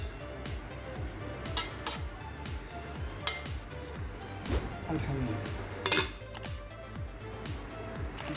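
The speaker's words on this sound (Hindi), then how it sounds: "तो इसको एक मरतबा चम्मच के साथ यूँ हिला देते हैं" A metal spoon stirs mutton liver in a cooking pot, clinking and scraping against the sides in a loose, repeated rhythm, close but fairly soft.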